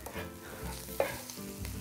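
Brief, quiet sizzle of meat and onions frying in a paella pan, with a soft scrape of stirring partway through.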